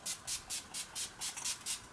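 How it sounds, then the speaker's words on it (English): NYX matte finish setting spray misted onto a face in about eight quick, evenly spaced spritzes, each a short, close airy hiss. "I'm going to take my matte finish spray from NYX, spray it all in my face"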